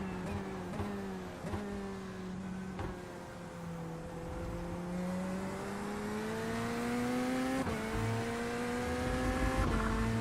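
GT3 race cars roar around The Bend circuit in a racing video game, one engine droning and climbing in pitch through repeated gear shifts, with other cars nearby and no voices.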